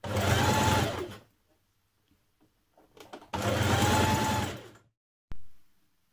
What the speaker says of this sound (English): Now turn your tape to the inside and stitch it down.